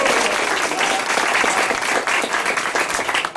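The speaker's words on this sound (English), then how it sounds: "Let's try that clap sound one more time." Studio audience clapping on a live country radio show in Nashville, loud and continuous applause from a packed room with no voices over it.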